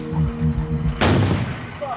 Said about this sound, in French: une explosion retentit.